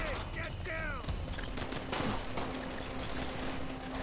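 Gunfire crackles in a co-op match of the shooter Call of Duty: World at War. A few sharp shots ring out fairly faintly against a busy battle-ambience background, and a voice is briefly heard in the mix.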